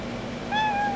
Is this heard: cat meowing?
yes